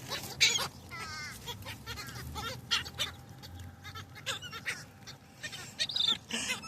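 Wild birds such as starlings and crows squabble over dried soldier fly larvae, giving a scattered run of squawks, clucks and sharp chirps, fairly faint and close, with short pauses between bursts.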